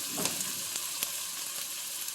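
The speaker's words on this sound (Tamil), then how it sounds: "வெங்காயம் நல்லா வதங்கட்டும்." Onions and curry leaves sauté in hot oil, giving a steady soft sizzle with a few light stirring clicks, faint and close, with no voices.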